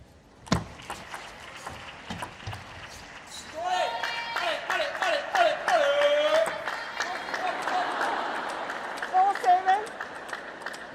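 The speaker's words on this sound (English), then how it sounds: "That's a good bit of cheer from the French fans." French fans cheering at an ITTF Mixed Team World Cup 2024 table tennis match, a sharp hit followed by a swelling crowd roar with whistles and shouts, while a commentator talks over it.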